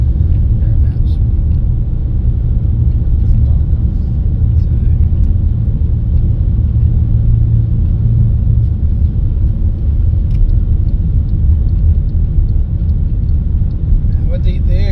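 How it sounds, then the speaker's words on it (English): MG HS 2.0 petrol SUV accelerating hard from a standstill toward 100 km/h, heard from inside the cabin as a steady, loud, continuous engine and road rumble with no distinct gear changes. "maybe a bit of a 0 to 100 or 0 to 60 for my international viewers"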